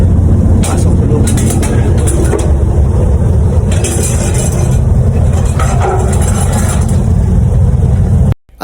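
A truck drives aboard a vessel at a port crowded with stranded vehicles, its engine rumbling loud and steady with a low growl, then cutting off abruptly at the end.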